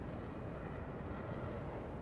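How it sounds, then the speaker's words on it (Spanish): An airplane makes a steady, faint engine roar, a broad even rumble that holds unchanged for the whole two seconds. "Avión."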